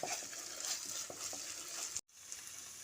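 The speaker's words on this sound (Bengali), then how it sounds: "নুনটা দিয়ে মশলার সঙ্গে ভালো করে মিশিয়ে দিচ্ছি" Salt is stirred into a tomato spice masala in a pan for Bengali bata fish curry, a steady low sizzle with soft spatula scrapes, quiet and close, cutting out abruptly for a moment near the end.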